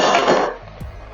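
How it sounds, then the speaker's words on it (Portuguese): A lid goes onto a cooking pot of rice with a single short metallic clatter, followed by a faint softer knock as it settles. "E aí nessa hora, com fogo baixo, eu vou tampar essa panela."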